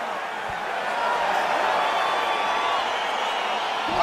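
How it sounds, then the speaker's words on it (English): A dense arena crowd roars and cheers steadily in the video game UFC 4, a broad continuous wash of noise with faint voices mixed in. "crowd getting excited as this fight gets underway"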